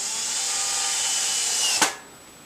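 A power drill drives a 1¼ inch screw through 3/4 inch boards while assembling a bookcase, one steady close whir ending in a sharp clunk as it seats, then the motor stops.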